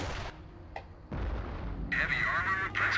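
Mortar artillery fire in the video game Company of Heroes, with heavy booming blasts and a sharp crack, mixed among other battle effects and in-game chatter.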